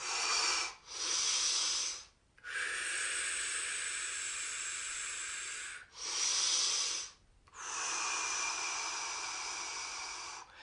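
Slow, close breaths drawn in and out while folding forward in a seated chair yoga stretch, four long airy breath phases broken by short pauses, heard alone with no talk.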